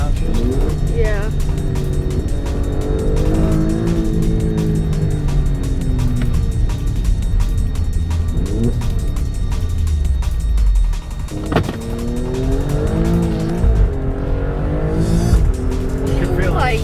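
An Alfa Romeo Stelvio Quadrifoglio engine revs hard and downshifts while accelerating, its pitch repeatedly climbing and dropping in loud sweeps, with tire noise and people talking over the engine throughout.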